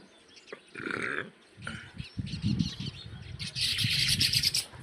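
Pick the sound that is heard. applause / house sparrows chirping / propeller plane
house sparrows chirping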